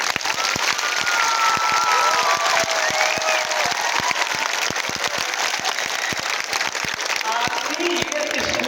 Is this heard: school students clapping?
yes